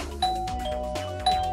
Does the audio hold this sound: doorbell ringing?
yes